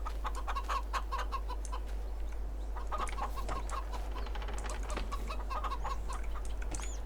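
Chickens cluck steadily on a farm in a Polish farming simulation game, a flock of hens chattering continuously and fairly close, with a constant low hum underneath and no talking.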